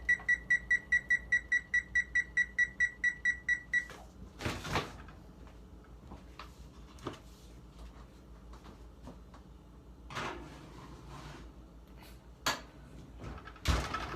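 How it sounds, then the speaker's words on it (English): An oven control panel beeps in a fast, even series of about a dozen short tones while a timer is set, followed by quiet kitchen clatter and a few knocks. "Now I'm going to set the oven to 19 minutes"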